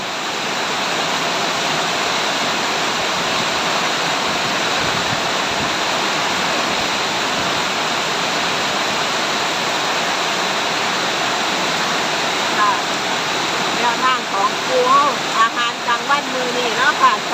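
Steady, dense hiss of heavy rainfall pouring continuously, with some faint splashing and irregular patter toward the end.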